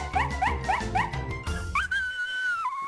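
A cartoonish dog from the Mortal Kombat 3 video game on PlayStation 1 yips in four quick repeated barks over game music, then lets out a long, rising whimpering whine.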